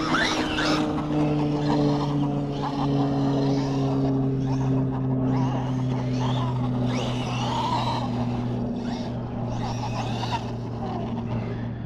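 A Traxxas Maxx Slash RC car fitted with oversized big tires drives and revs, giving a continuous high motor whine with tires scrubbing and hitting the surface, steady and close throughout.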